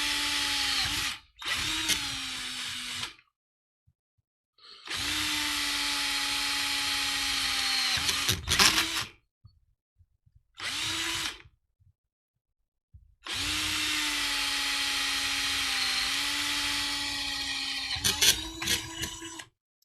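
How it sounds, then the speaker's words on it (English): A power drill bores extra holes in an SCX10 RC crawler chassis, running in three long whining bursts with short gaps, close and loud, with brief clicks and rattles as each hole finishes. "I am really just drilling the extra holes"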